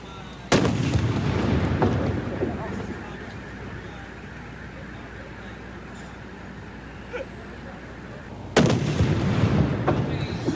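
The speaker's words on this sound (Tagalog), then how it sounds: "Alam mo, Kara, sa lakas ng pagsabog, ramdam na ramdam natin ito kahit mahigit 10 meters ang layo natin mula doon sa mga pinasabog na paputok na yan" Firecrackers set off by police in a safety demonstration blast outdoors, likely against wood, paper, hollow blocks and galvanized iron sheets: two loud, sharp explosions about eight seconds apart, each followed by a rumbling tail, with quieter background noise between.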